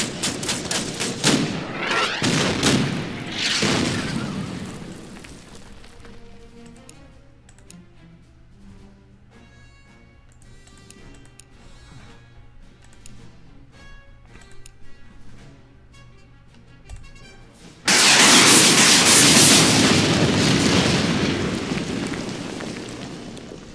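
Gunfire and artillery in the wartime strategy game Order of Battle: Endsieg, with loud broadband bursts of shots and explosions at the start and a sustained heavy roar late on, between quieter musical stretches.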